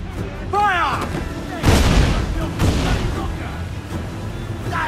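Ship cannons fire in a naval battle in Assassin's Creed IV Black Flag against the El Impoluto, heavy booming blasts in a couple of loud bursts amid rumbling noise, with a shouting voice over the action.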